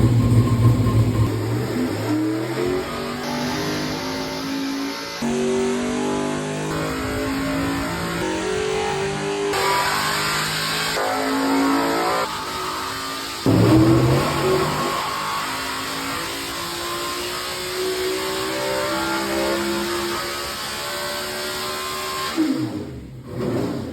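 A powerful LS V8 engine on a dyno revs repeatedly during an intake manifold test, climbing and dropping in pitch in long sweeps, loud and close, with a steady high whine above it.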